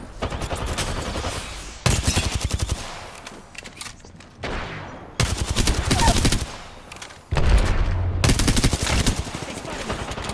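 Enemy gunfire in a shooter, loud bursts of rapid automatic fire arriving in several separate volleys with quieter stretches between them.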